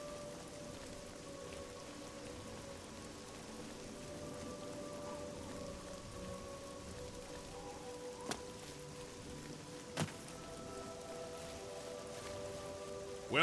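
Steady rain falls in the Oblivion video game, a soft continuous patter with a few faint low tones beneath it and occasional sharper clicks, quiet and unbroken throughout.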